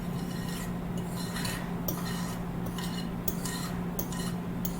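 A spatula scrapes around the sides of a mixing bowl during home baking, a soft rasping rub repeated in short strokes, close and quiet with no talk.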